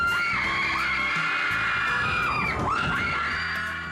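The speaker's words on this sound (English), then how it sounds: "But it doesn't move enough to elicit these kind of screams." Crowd of people screaming inside an enclosed amusement ride, loud overlapping shrieks rising and falling in pitch, with a few shouts and a bang partway through.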